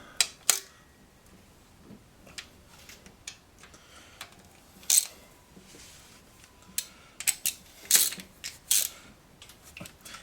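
A ratchet tightens the intake manifold bolts on a 1969 Ford Ranch Wagon, producing faint, close bursts of quick clicking with short pauses between them. Occasional metallic ticks and creaks are heard, and there is no talking.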